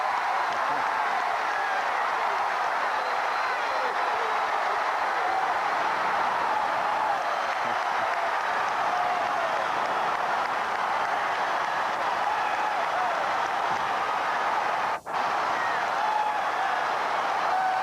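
Basketball arena crowd at Memphis State roaring after a game-winning shot, a continuous dense wall of cheering and applause that holds steady throughout, with one brief dropout near the end.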